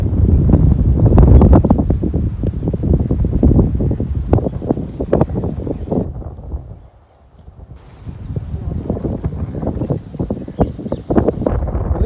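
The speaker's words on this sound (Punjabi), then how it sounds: "ਆ ਦੇਖੋ ਪੂਰੇ ਹਵਾ ਦਾ ਪੂਰਾ ਪ੍ਰਭਾਵ ਪਿਆ ਹੋਇਆ" Strong wind gusting across cloudy farmland, buffeting the microphone with loud, uneven low roaring and rustling that briefly eases partway through before rising again, with no speech.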